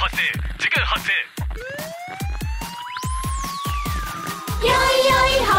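A police car siren in a children's song sweeps up and down over a bouncy, rhythmic music beat, the wail rising high before settling into a steady tone.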